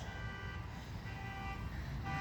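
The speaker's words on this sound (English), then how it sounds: "Someone's alarm is going off on their" A car alarm goes off some distance away, its faint, steady electronic tone sounding over low background rumble outdoors in a garden.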